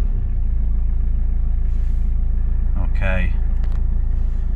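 Mitsubishi Chariot with a 4D68T engine, a car rescued from a scrap yard, rumbles steadily at close range throughout, with a brief spoken word partway through.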